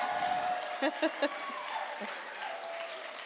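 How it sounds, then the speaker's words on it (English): Guests at a reunion gathering for EarthCorps, an environmental service corps, give a soft, fairly distant round of clapping, with a few sharper individual claps standing out near the middle. "okay, just clap."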